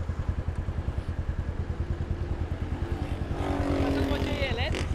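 An electric motorcycle passes close by with a rhythmic mechanical whir that swells toward the end, with traffic-like background noise.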